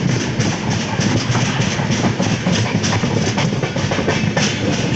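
The Shri Shakti Express rolls along after leaving Jalandhar Cantt, heard from inside as a loud, continuous rumble with steady clickety-clack of wheels over rail joints.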